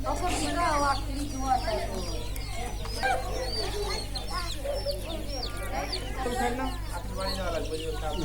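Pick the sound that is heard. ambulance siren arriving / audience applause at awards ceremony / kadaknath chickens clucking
kadaknath chickens clucking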